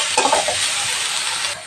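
Roasted gram, mint and coriander greens sautéing in a hot pan for karamani gravy, a steady loud sizzle with brief stirring scrapes near the start, no voices.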